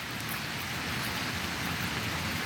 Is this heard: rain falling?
yes